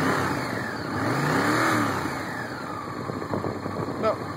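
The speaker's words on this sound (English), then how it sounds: "Sometimes when I blip the throttle," An idling carbureted engine is blipped, its revs swelling and easing back in a loud, close, continuous drone with no speech over it.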